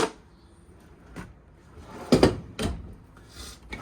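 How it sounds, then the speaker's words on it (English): Drawers in the kitchen of a used 2016 Heartland Bighorn 3270RS fifth wheel RV slide and bump shut. Several separate knocks and short sliding scrapes come close together at a close range in a quiet room. "Big open drawer down here."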